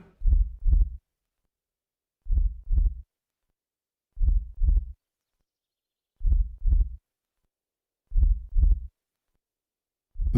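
A film heartbeat sound effect: deep, isolated double thumps repeating at a slow, even pace about every two seconds, loud and close against complete silence.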